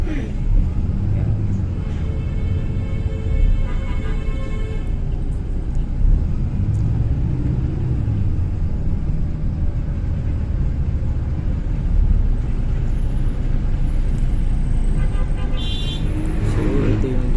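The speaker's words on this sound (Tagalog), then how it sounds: "So kita nyo naman yung traffic, kahit nakamotor ka, traffic pa rin." Heavy road traffic in Metro Manila, heard from a motorcycle, forms a dense, loud rumble of engines and passing vehicles that continues throughout, with someone speaking over it.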